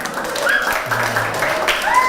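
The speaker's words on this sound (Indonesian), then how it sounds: "Tepuk tangan buat kita semua." A classroom group at a digital-literacy education session in Jakarta claps together, a brisk scattered patter mixed with voices and cheerful calls over it.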